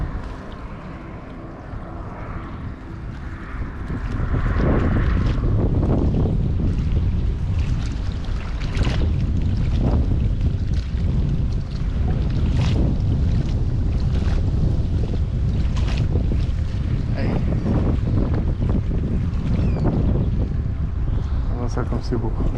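Choppy waves lapping and splashing on a wind-stirred pond, with strong wind buffeting the microphone throughout, growing louder after a few seconds.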